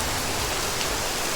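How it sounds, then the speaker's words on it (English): Dense tropical rain pours down in the Singapore Botanic Garden, a loud, steady, even hiss of drops hitting foliage and surfaces with no voices. "rain. It will last for about maybe 10-15 minutes, I hope."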